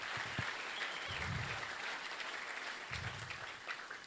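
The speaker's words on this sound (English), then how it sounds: "give him a big hand of applause for joining us" Steady applause from an audience at a race briefing, moderately loud and continuous, with a couple of low murmuring voices underneath.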